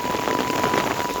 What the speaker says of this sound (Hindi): ये ओलावृष्टि हो रही है